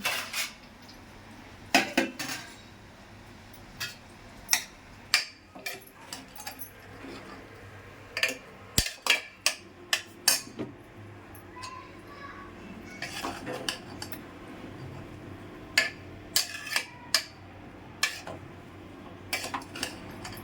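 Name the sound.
stirring grated carrots in a pan for carrot halwa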